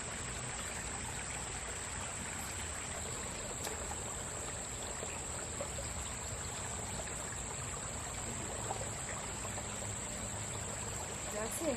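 A forest stream trickles and babbles steadily over rocks, a continuous close wash of running water with no break, filling the whole stretch.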